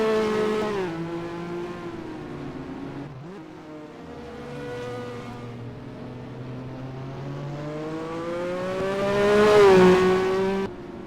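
A Formula 1 race car engine in the NR2003 racing game, a high, harmonic-rich whine that drops and climbs through gear changes, then swells to a loud peak and cuts off sharply.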